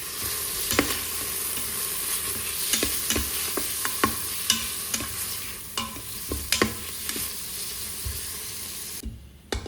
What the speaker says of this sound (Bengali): এবার নেড়ে ছেড়ে পেঁয়াজগুলোকে ভেজে নিচ্ছি।